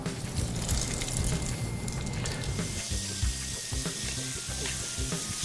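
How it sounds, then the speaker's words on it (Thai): Breaded shrimp popcorn, coated in egg and flour, deep-frying in hot oil: a steady, loud, crackling sizzle with scattered pops throughout. "ทอดประมาณสัก 1-2 นาทีนะครับ"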